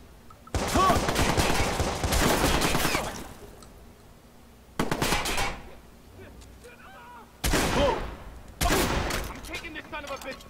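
Gunfire in the open-world game Watch Dogs comes in several loud, dense bursts separated by brief lulls, with heavy artillery-like blasts and a voice heard between them.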